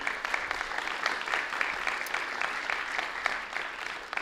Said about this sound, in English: Let's give them a round of applause if we could.